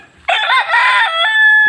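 A fighting rooster, a broodstag gamecock, lets out one loud, close cock-a-doodle-doo that rises, holds and ends in a long sustained note, with no talk over it.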